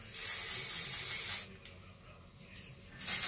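An aerosol can of dry shampoo sprays a steady hiss for about a second and a half, pauses, then sprays again briefly. Close and fairly loud.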